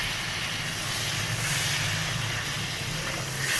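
Tomatoes, about four of them, dropped into hot oil with ginger-garlic paste while frying daal mash, giving a steady, loud broadband sizzle and hiss that holds evenly throughout, with a low hum underneath.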